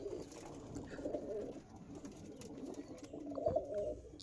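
Young pigeons of the Mangalagiri Lalsira, Star Kalanka and Abluk breeds coo softly in repeated low murmurs, quiet and close.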